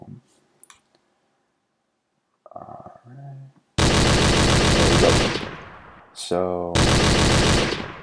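Sci-fi laser beam weapon effect from a Unity game firing in loud, dense bursts with a rapid stuttering buzz, after a brief spoken word and some small clicks.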